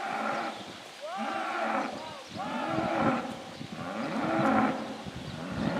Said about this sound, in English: We got some cows out.